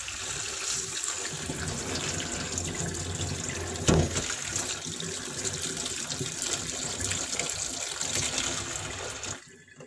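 Water pours steadily from a tap or container over mung beans being sprouted in a pot, a continuous splashing stream with one brief louder splash partway through.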